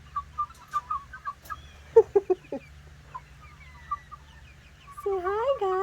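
Chickens, silkies among them, cluck in a backyard run with a string of short close clucks and calls, then a louder run of squawking near the end, over a low steady hum in the background.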